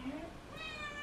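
A cat gives a short, faint meow, rising then trailing off, heard indoors at low level against quiet background noise.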